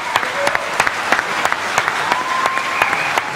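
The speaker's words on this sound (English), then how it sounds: "some were clapping hands, some were shouting, some were running to take pictures" An audience at an Oxford auditorium greeting Michael Jackson with hand claps, sharp and scattered rather than a dense roar, with a faint tonal whistle-like line over the clapping.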